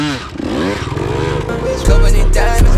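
A Honda CRF dirt bike engine runs close by, revving in rising and falling pitch sweeps before settling into a louder, steady drone, with music playing over it.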